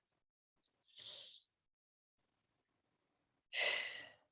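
Two deep breaths taken during a guided tapping meditation with eyes closed, each a soft, airy inhale or sighing exhale about half a second long, separated by a few seconds of quiet.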